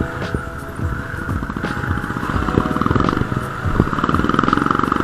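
Cold Rusi motorcycle engine idling steadily with a rapid, uneven mechanical clatter, loud and close, the revs held up throughout with no talk.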